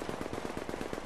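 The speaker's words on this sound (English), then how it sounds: "you can't shoot that far with a shotgun" Rapid gunfire in the video game The Division, firing in the Dark Zone with a shotgun in a solo run, a fast regular burst of shots at moderate level with no talk.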